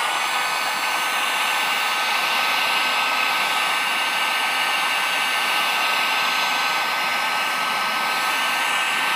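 Hair dryer or heat gun blowing hot air over the seam of a zombie prop, a loud, steady, unbroken whirring blast held close throughout with no talk.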